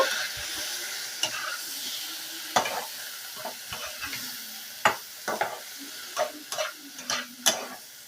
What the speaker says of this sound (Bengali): দইটা দেওয়ার পরে আরও আমি মিনিট নাড়াচাড়া করে মশলাটাকে কষিয়ে নেব